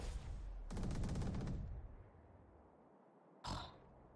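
Bursts of gunfire shot through a wall in the tactical shooter Valorant during a North American Challengers match: a rapid volley of cracking shots, then a quieter tail and one more sharp shot, with no talk.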